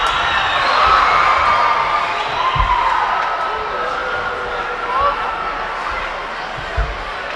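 A crowd reacts with a broad, sustained roar at a BYU vs USU ice hockey game in the arena, loud at first and then easing off, with a few thuds from the rink beneath it.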